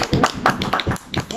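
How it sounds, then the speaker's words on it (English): A small audience at a blues talk show claps briefly and unevenly, close by, with a voice speaking over it. "Huge round of applause!"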